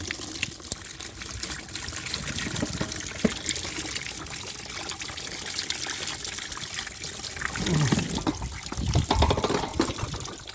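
Coolant draining from a leaking Volkswagen Touareg into a bucket, a continuous close splashing trickle that swells into gushes near the end, with no talk over it.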